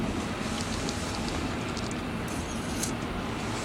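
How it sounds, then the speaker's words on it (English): A very long freight train made up of flat cars rolls past steadily, giving a continuous loud rumble and rattle of wheels with no break. "This one's one of the longest trains I think I've seen."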